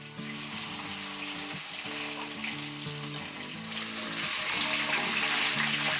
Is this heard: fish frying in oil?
yes